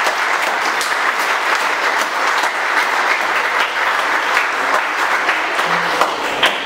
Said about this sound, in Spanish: le ofrecemos un aplauso a Oli.